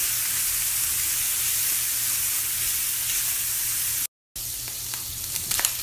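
Shrimp sizzles steadily as it is stir-fried in a hot pan for fried rice. The continuous hiss drops out for a moment, then resumes with faint stirring clicks.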